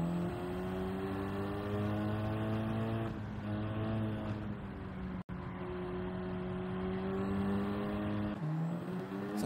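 A race car pulling out of the pits in Gran Turismo 7, its engine droning loudly and climbing steadily through the gears with brief shift breaks, heard close and alone without talk.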